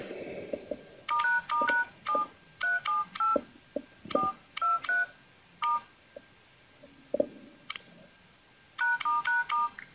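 Keypad tones beep on a Sony Xperia Arc S phone as a reset code is entered, short clear tones in quick clusters with pauses between groups.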